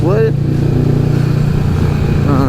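Kawasaki Vulcan 650S motorcycle running, a steady loud engine drone throughout with a brief rise in pitch at the start and a swell near the end, while people talk over it.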